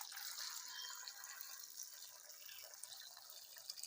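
Hot water is poured from a vessel onto chopped onion, ginger and garlic, giving a faint, continuous hissing splash for a few seconds with no voices.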